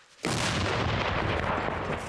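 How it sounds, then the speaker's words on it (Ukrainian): A single powerful artillery gun blast on the Kherson front booms suddenly, loud and close, with a heavy rumbling roar that lingers before cutting off. "Один снаряд вогонь! Армата! Постріл!"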